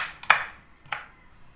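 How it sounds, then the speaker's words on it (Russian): Two crisp knife chops cut purslane stems on a cutting board, close and distinct, about half a second apart, then quiet. "мы мелко нарезаем наши семизоты вместе со стеблями"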